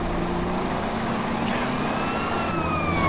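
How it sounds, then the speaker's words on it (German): Ambulance siren in the video game GTA San Andreas, a steady wailing tone rising and falling over a constant background of engine and street noise, heard alone without voices. "das scheint der Krankenwagen zu sein, der Johnny abgeholt hat"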